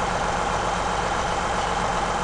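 A big tractor engine from Farming Simulator 17 runs steadily, a dense, constant rumbling drone that fills the clip without pauses or talk.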